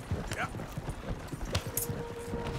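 Horse hooves clip-clop on the ground in the Red Dead Redemption 2 video game, pulling a single-horse cart in a steady, close rhythm, with talk over it.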